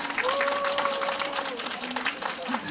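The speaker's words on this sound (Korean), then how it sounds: "다시 한번 힘찬 박수 부탁드립니다" Applause from a crowd at a Busan rally for the day to eradicate poverty, a steady wash of clapping under a speaker's amplified voice for nearly three seconds.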